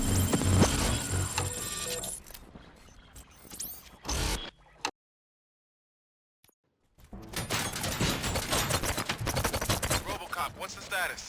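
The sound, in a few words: gunfire in the video game Robocop Rogue City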